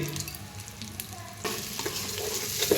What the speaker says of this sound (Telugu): తగినంత పప్పు తీసుకొని అలా పోసి